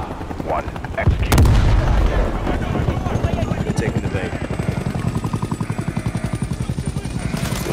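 A breaching charge blows in Call of Duty Modern Warfare III, a loud burst followed by a sustained rumble with rapid gunfire and helicopter rotor thumping, while voices speak over the combat.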